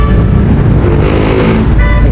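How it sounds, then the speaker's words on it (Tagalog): Steady, loud road traffic noise on a busy street during a delivery run, with continuous engine rumble from passing cars and trucks filling the whole stretch without pause. "Traffic na po sir."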